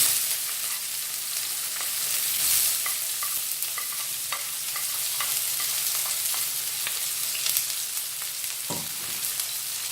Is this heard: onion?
yes